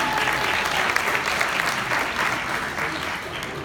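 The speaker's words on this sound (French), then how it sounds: "4 strikes, on applaudit Pedro!" Audience applause for Pedro, a first-time bowler who just rolled four strikes, fills the room as a dense, steady burst of clapping from a crowd that holds at full volume throughout.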